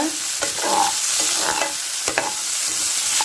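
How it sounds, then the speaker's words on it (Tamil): Steady sizzling of onions frying in a pan with cumin, with a few scraping stirs of a utensil against the pan, close and continuous. "சீரகம் பொறிஞ்சோன்னே வெங்காயத்தை போட்டுக்கோங்க"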